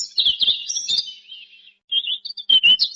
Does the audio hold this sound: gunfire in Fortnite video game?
no